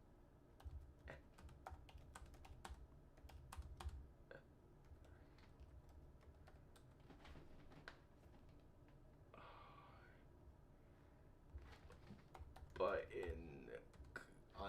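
Computer keyboard being typed on during a late-night studio session, quiet clicking keystrokes in irregular bursts throughout, with occasional brief speech over a low background hum.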